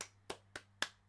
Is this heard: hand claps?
yes